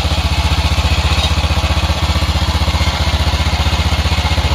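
A motorcycle engine runs during a test ride, a loud, close, rapid even thumping beat holding a steady pace throughout.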